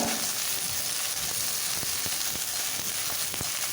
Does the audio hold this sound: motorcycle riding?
no